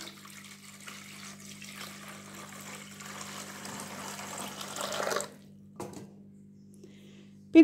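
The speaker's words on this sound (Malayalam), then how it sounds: "പിന്നെ നമുക്ക് ഒരു 5 ഗ്ലാസ് വെള്ളം ഇതിലേക്ക് ഒഴിച്ചു കൊടുക്കാം." Water from a glass is poured steadily into a cooking pot for several seconds, a continuous rushing splash over a low hum, then it stops with a few brief knocks.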